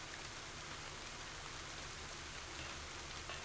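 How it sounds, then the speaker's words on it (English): Steady rain pours in the video game Ender Magnolia, a dense, even hiss of falling water that fills the whole stretch without breaks or voices. "Is this water falling from above?"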